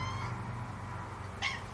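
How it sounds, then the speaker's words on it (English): A farm cat meows once, a short, fairly faint call late in the clip, against a steady background hum. "Yeah, you're a farm cat."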